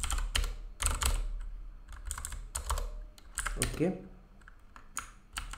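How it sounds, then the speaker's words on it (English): Rapid clicking of someone typing PHP code on a computer keyboard, a steady close burst of keystrokes with brief pauses, and a voice speaks briefly between them. "Now I will write the PHP code just below the form."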